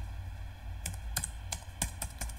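Typing on a computer keyboard while writing SQL insert code, a handful of quick, sharp key clicks in short irregular bursts over a low steady hum, close and fairly quiet, with no talking.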